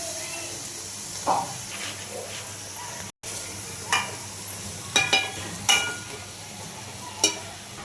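Fish pieces and chili powder frying in a pan for a fish curry, a steady soft sizzle with a few sharp clinks and scrapes of stirring spaced through it.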